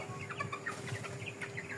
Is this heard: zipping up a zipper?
no